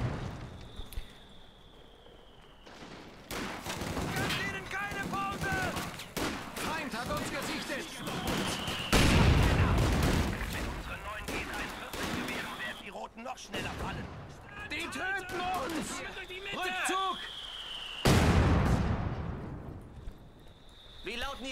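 Mortar and gunfire from a competitive video game match: repeated booming impacts and bursts of shots, some loud and close, others more distant, recurring throughout under ongoing spoken commentary.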